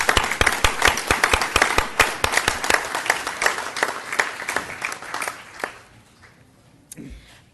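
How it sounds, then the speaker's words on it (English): Applause for students at a school board meeting, a modest room of people clapping steadily in distinct claps that thin out and fade to near silence at the end. "So let's give them all another round of applause"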